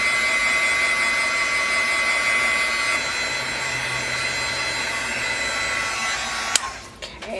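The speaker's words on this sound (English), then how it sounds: "So I'm just going to use my heat gun, and this stuff dries really fast." Heat gun drying mixed media paint on stamped altered tags: a steady, loud whirring blast of air held for several seconds, then clicked off, followed by faint handling noises.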